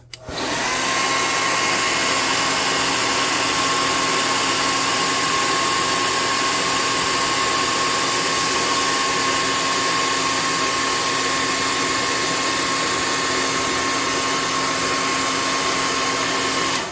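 Hair dryer blowing steadily at close range to dry fresh paint on a handmade mechanical spider cannon tabletop model, a loud continuous whir with a faint high whine, running unbroken the whole time with no talking.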